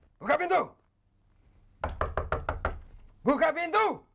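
Loud knocking on a door, a quick burst of about six raps in a row, set between shouted voices before and after.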